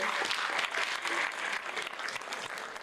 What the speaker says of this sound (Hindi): आपने जो तालियां बजाई हैं